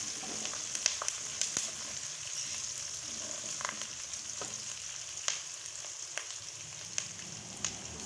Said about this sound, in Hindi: प्याज को अब ब्राउन कर लेंगे हम।